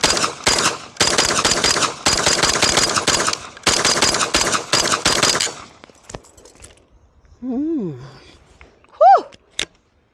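A Kalashnikov KP9 AK-style pistol fires a long, rapid string of loud, close shots over about five seconds, then goes quiet apart from a couple of brief vocal sounds.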